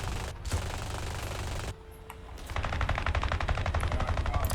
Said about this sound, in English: My gunners open up.